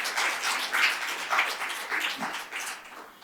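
A church congregation claps to welcome a visiting grandson from an online church in Brazil during Sunday worship, a faint, diffuse patter of many hands that swells and fades in soft waves with no talk over it.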